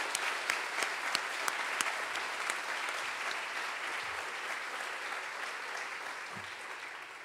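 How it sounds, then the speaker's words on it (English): Sustained applause from an audience at a college convocation award ceremony, steady dense clapping throughout with a few sharper claps standing out near the start, fading slightly toward the end. "let's give her a round of applause for this particular award"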